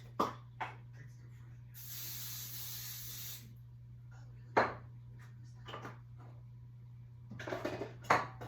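Cooking spray hisses onto a cast iron skillet in one short burst, surrounded by light clinks of kitchen pans and utensils and a low steady hum in a quiet kitchen.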